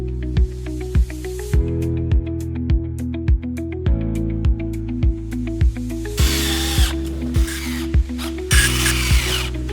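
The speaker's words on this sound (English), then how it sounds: "A power drill makes it even easier." A power drill driving screws into a plastic storage shed, whirring in short rhythmic pulses with a steady rising and falling motor tone, close and loud, with a harsher grinding stretch midway.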